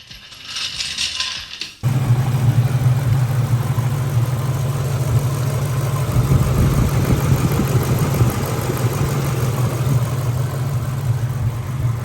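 A Ford Mustang engine idles steadily after an old electric fan was replaced, a loud, even low hum that starts abruptly after a brief mechanical rattle and runs on without talk.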